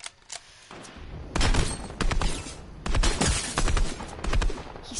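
Bursts of automatic gunfire in Fortnite, several rapid volleys fired close and loud in quick succession with short gaps between them, no talking.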